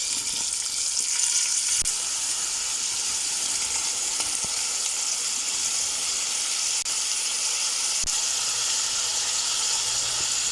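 Mince fries in a pan with chili and mixed masala, giving a steady close sizzle and hiss that continues evenly throughout, broken only by a few faint clicks.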